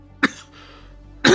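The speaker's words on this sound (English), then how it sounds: "That's just a cough." Two sharp coughs about a second apart, the second louder and longer, with a quiet hum between them.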